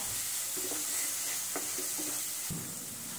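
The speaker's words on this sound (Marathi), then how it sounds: "सर्व मसाले आपण परतून घेऊया" Ground spices with red chilli powder sautéing in a hot pan for sprouted moong usal, a steady soft sizzle with a few scraping stirs, close and alone.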